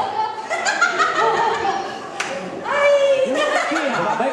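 Audience at a wedding music performance in Puglia claps and laughs together, a busy close crowd sound with chatter and voices mixed in throughout.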